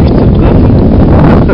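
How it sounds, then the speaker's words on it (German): Loud, steady wind buffets the microphone in a continuous roaring rumble with no pauses. "Aber es ist halt voll im Wind jetzt."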